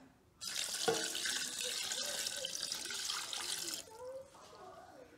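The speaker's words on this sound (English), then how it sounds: "I'm going to add water." Tap water pours into a cooking pot for about three seconds, a soft steady splashing rush that stops abruptly, leaving a quiet kitchen.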